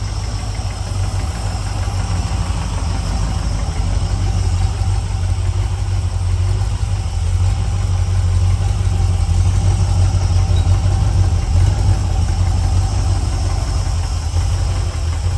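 Carbureted LS engine in a 1971 El Camino idling during a test firing, a loud, steady, close rumble with a faint knocking vibration running through the whole stretch, with no voices.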